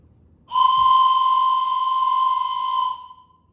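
Toy train whistle blown once, a loud, steady, shrill tone lasting about two and a half seconds in otherwise quiet surroundings.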